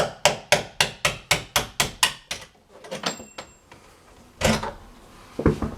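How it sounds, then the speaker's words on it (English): A quick run of about ten sharp metallic taps on a door hinge pin to work it loose, followed by a few scattered knocks and scrapes, close and fairly loud. "So what I'm going to do is pull this pin out again."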